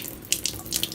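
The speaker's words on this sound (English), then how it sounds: "See that water flowing" Water running from an eSpring filter faucet, a brief steady splashing hiss of the flow into a glass or sink, close and moderately loud with no voices.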